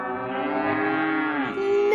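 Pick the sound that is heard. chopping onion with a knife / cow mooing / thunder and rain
cow mooing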